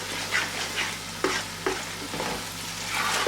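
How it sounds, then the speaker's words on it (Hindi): Ground tomato purée fries in a pan over a high flame, a steady close sizzle broken by several stirring scrapes, with no one talking. "इसे भी 1-2 मिनट यहाँ पे फ्राई कर लेते हैं, सिर्फ 1 से 2 मिनट हाई फ्लेम पर"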